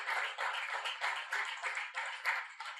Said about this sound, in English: Let's give the panel a great round of applause